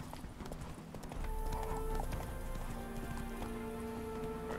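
A horse's hooves clip-clop at a steady walking pace in The Witcher 3, moderately close under a soft ambient game background, with a faint whinny and some sustained tonal music.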